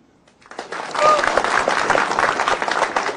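Studio audience at an Indonesian stand-up comedy show breaks into dense, loud clapping that starts abruptly and holds steady.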